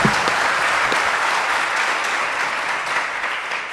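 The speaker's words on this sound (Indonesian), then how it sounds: "Tepuk tangan dulu boleh, Prof." Large audience at a university public discussion applauding, a thick, continuous roar of many hands at steady, fairly loud volume throughout, with a brief voice heard at the very start.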